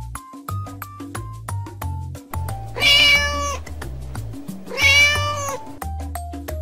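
A cat meows twice, close and clear, each cry lasting under a second and about two seconds apart, set against bouncy electronic game music with regular blips.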